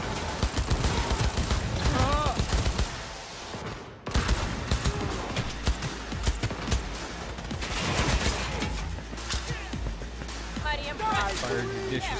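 Rapid gunfire bursts in the video game Cyberpunk 2077, with dense repeated shots and a brief lull, mixed under game audio and voices.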